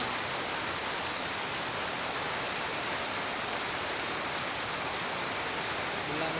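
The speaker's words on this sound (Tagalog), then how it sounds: "biglang bumuhos yung napakalakas na ulan" Heavy rain pours down in a steady, dense hiss that stays even and continuous throughout, with no distinct voices.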